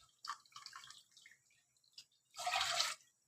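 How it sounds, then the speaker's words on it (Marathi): Water is poured from a cup into a cooking pot for rice, several short splashy trickles followed by one louder, longer pour near the end, quiet and close with no talk. "तर दुपटीपेक्षा थोडं जास्तच पाणी टाकायचं."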